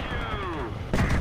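Machine-gun fire from a CM11 tank in the mobile game War Thunder Mobile: a sudden loud burst of shots cuts in near the end of the brief moment, after a sweeping tone.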